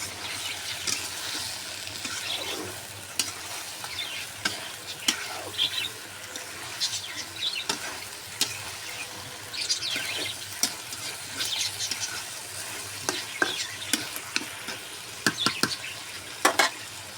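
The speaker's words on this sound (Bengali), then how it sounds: "আমি তরকারিটা একটু কষাবো।" Curry being sautéed in a pan, with a continuous sizzle and frequent scraping and stirring clicks from a spatula. The clicks come irregularly and sound close by, and no one speaks.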